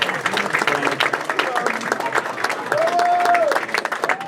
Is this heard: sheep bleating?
no